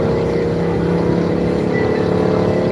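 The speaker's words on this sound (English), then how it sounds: "It's way too loud. It's a motorcycle gang" Loud, continuous engine roar with a rough, throbbing low end, like motorcycles revving close by, steady throughout with no talking.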